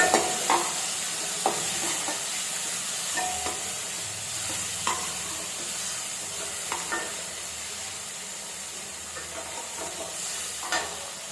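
Chopped onion and a large tomato sauté in a hot pan for Bombay sambar, with a continuous close sizzle broken by regular scraping stirs every second or so.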